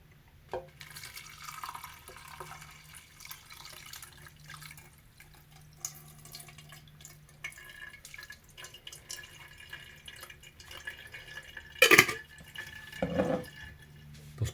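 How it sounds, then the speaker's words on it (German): Wild garlic tincture trickles and drips steadily through a coffee filter, a soft continuous liquid patter in a quiet room, with a few louder splashes near the end. "Und jetzt gießen wir das einfach in einen Kaffeefilter."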